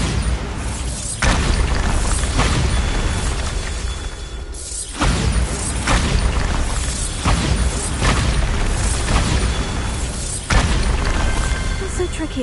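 Bombarda spell explosions in the Hogwarts Legacy video game, during a Merlin trial: several loud booming blasts recur through the clip, one every few seconds, with someone talking over the game sound.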